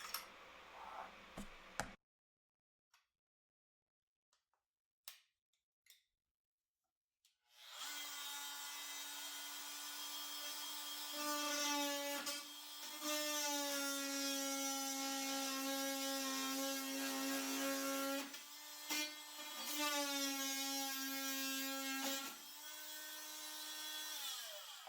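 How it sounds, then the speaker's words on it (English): A Dremel rotary tool whines at a high, steady pitch as it works on wood, running close and continuously for about seventeen seconds with slight dips in speed under load, after a few faint clicks in near silence. "I just want you to get a real life experience of what it's like to use this Dremel."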